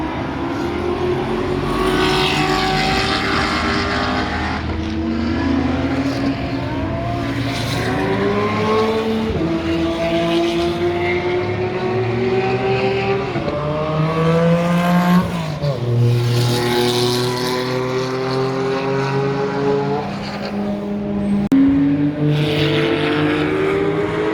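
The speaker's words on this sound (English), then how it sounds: "watch some of the racing action going on" Race cars lap a racetrack at Barber Motorsports Park on a sunny day, engines whining and rising and falling in pitch as they accelerate and pass, several cars overlapping in a loud, continuous roar with no talking.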